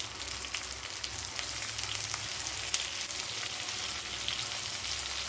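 Stuffed okra frying in a pan gives a steady, dense sizzle throughout, close and even, with no voices over it.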